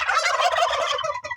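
Turkeys gobble in close, loud, rapid bursts that run together for over a second before trailing off in a couple of shorter calls, with no talking.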